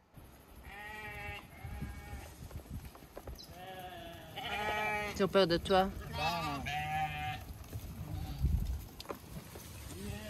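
Sheep bleat repeatedly, close and fairly loud, near a campsite in Peru, with a few overlapping calls under a person speaking briefly.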